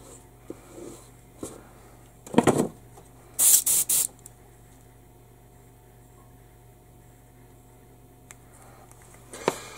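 Airbrush spraying AK Real Colors thinner in short hissing bursts, two sharp blasts in the middle and a few smaller puffs, close and loud against a quiet room hum, with no talk.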